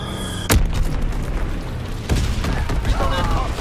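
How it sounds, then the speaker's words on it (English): Incendiary bombs burst in Call of Duty WW2 with two sharp, booming blasts a little over a second apart over a dense battlefield backdrop, while a voice talks. "Incendiary bombs incoming."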